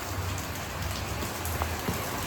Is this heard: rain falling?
yes